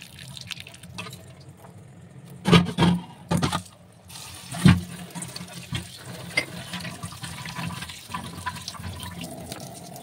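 Running tap water splashes while vegetables are washed for veg fried rice, with a few louder gushing bursts and drips over a low, steady trickle.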